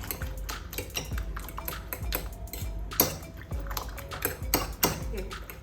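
A beaten egg thinned with a little water is stirred in a bowl, with a fork or spoon clinking against the sides in quick, uneven taps and light wet sloshing, close by, with a voice faintly audible in the background.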